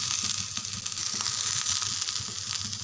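Onions sautéing in a pan for a coconut-free tannī chutney give a steady, close sizzle with a soft continuous hiss and light crackle, no voices.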